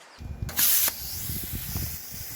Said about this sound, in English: when you get tired of fooling with the rusty bolts and stuff, pull out the plasma